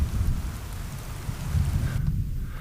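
Steady rain pours on the African plains with a low rolling rumble of thunder underneath, continuous and fairly close.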